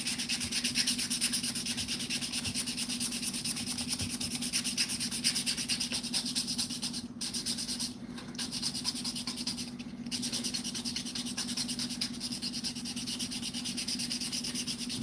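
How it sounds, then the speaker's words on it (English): 400 grit sandpaper rubbed along the edge of a stitched sheath, a close, continuous, even scratching with rapid back-and-forth strokes and a couple of very short breaks. "Now I'll just get some 400 grit sandpaper to sand the edge."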